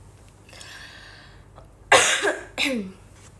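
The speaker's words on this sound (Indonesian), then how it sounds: "batuk udah sebanyak 4 kali" A person coughs twice in quick succession during a livestream, loud and close, against quiet background noise.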